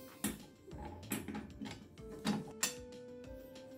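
Metal clinks and scrapes as the outer flange slides onto the arbor of a Makita 2704 table saw, a few close, sharp knocks and rattles spaced irregularly in a quiet room.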